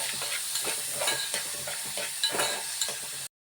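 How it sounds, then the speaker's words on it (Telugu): Chopped onions sizzling and frying in a pan for vegetable macaroni pasta, with steady crackling broken by several rhythmic stirring scrapes, close and fairly loud, no voices. "ఆనియన్స్ బ్రౌన్ కలర్ వచ్చేంత వరకు వేసుకోవాలి."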